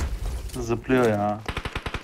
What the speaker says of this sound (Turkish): Şu tarafından biri sıkıyor.